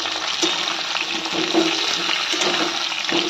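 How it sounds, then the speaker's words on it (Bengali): Green bananas fry in a pan with a steady, fairly loud sizzle, broken by scraping stirs that come and go throughout. "কলাগুলো সব দিয়ে দিয়েছি, ভালো করে ভেজে নেবো।"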